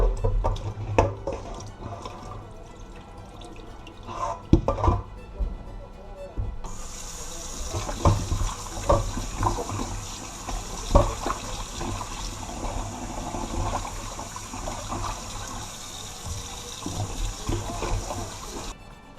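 Raw chicken being rinsed under a running kitchen tap after cleaning with lime and vinegar, a steady splashing water stream with drips and handling noises, close and fairly loud, joined by a brighter hiss of water midway.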